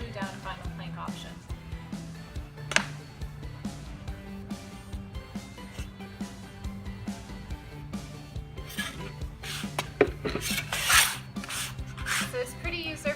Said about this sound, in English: You're going to go ahead and trowel that onto the floor, and it's a very thin spread.